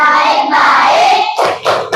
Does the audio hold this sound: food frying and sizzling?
no